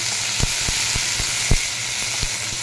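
Ginger-garlic paste sizzles and hisses steadily in hot oil while being stirred for an egg tarka, with soft rhythmic scrapes of a spoon in the pan, close and continuous.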